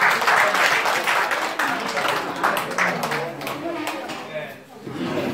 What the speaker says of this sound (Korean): 큰 박수로 서로 환영 전해주시면 고맙습니다.